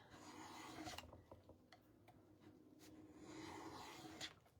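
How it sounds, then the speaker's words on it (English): Dried wax being scraped off a painted wooden Dollar Tree cutting board, a close, quiet rasping rub in repeated strokes with a few small knocks between. "Now we're going to scrape. And we're going to get some of that worn, chippy look that I love."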